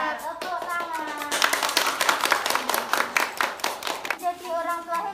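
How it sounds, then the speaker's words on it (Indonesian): A group at a village family-development (BKB) meeting claps hands together in a quick, rhythmic burst, sharp claps repeating over a few seconds between stretches of chanted voices. "Tepuk tangan."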